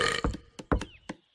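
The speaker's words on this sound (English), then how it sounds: "That was my celebration burp" A loud, drawn-out burp opens with a broad raspy rumble, followed by several shorter bursts of belching and grunting sounds in close succession.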